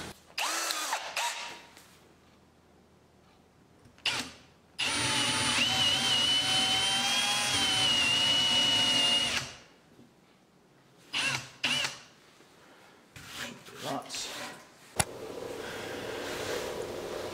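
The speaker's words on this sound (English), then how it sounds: "Put a hole in the center for the woodworm screw." Power drill boring a center hole in a butternut bowl blank for a woodworm screw, close and loud: short revving bursts, then a sustained whining cut of about five seconds, then more short bursts and a final stretch of running.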